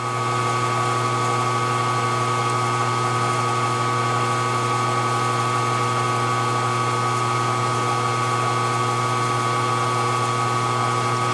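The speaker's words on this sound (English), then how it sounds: "Get a good center drill on here." A machine tool center drills metal for a radial engine cylinder head holding fixture, with a steady, droning motor whine and hum at an even, fairly loud level throughout, with no voices.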